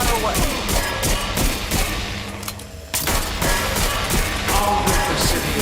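Sustained, dense automatic gunfire in Watch Dogs Legion, loud and continuous with a brief lull near the middle before the rapid firing resumes over layered game sound.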